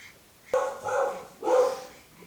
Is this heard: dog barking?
yes